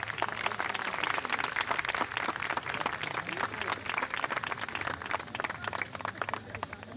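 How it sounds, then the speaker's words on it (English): Sustained applause from a commencement ceremony crowd, dense rapid clapping at steady moderate loudness filling the whole stretch, with no speech over it. "Let's give them a round of applause"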